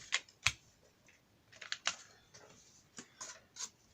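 Paper being cut for a scrapbooking folio pocket, heard as a quiet, uneven series of crisp snips and clicks with short pauses between them, close and alone.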